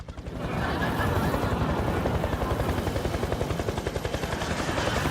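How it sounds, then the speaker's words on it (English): A news helicopter flies overhead, its rotor chop a loud, steady rapid thudding throughout, close and unbroken with no talk. "Chopper 12 is live on the scene with Baby Watch 2010."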